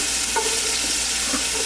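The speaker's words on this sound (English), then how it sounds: "With this oil that's nice and warm, we're gonna add, first thing, a whole yellow onion." Diced yellow onion hitting warm oil in a pot for birria, a continuous soft sizzle with a couple of light utensil clicks, fairly close and even.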